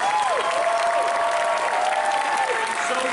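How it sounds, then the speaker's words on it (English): A crowd at a Disney Parks panel during Star Wars Celebration Orlando claps loudly and steadily, with several shrill whistles rising and falling over the applause. "give a round of applause."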